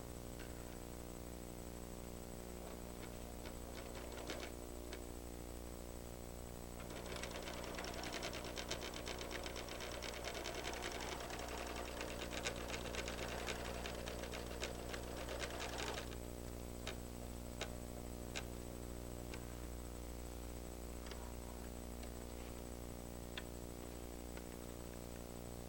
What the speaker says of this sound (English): Press the foot control and the hoop moves to the first pattern